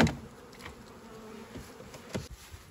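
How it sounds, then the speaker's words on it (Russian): Honey bees buzz around an apiary hive while it is being smoked, a steady close drone with occasional louder passes near the microphone. "Идет окуривание пчел."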